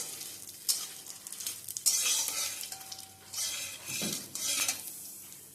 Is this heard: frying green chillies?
yes